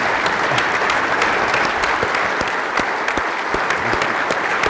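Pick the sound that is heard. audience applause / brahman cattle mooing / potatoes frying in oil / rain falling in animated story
audience applause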